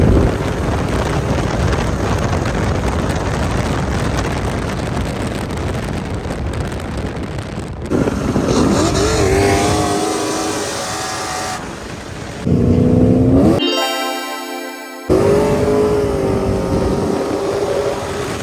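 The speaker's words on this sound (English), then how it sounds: "Let's go do some bloody skids." Holden Commodore VR or VS wagon doing skids on a track at a Powercruise event, its engine roaring loud and sustained with wind buffeting, a brief cut near the middle, and no talk.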